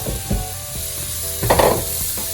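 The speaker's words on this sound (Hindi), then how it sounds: "अब इसको थोड़ा सा फ्राई करेंगे, हल्का सा सौते करेंगे" Flour and butter frying in a pan make a loud, close sizzle, broken by a few thumps and a scraping stir partway through.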